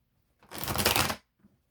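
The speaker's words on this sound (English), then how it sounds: "I'm going to do one more shuffle and we'll get right to it." Tarot cards riffled in one quick shuffle lasting under a second, close and crisp, with a faint tap just after and silence around it.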